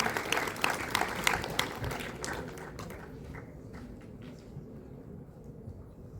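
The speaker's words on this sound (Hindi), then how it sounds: "एक बार जोरदार तालियां अनुराग जी के लिए" Loud applause from an audience at an event in Bharat Mandapam as a guest is called to the stage, a burst of crisp clapping that gradually thins and fades into a quieter room.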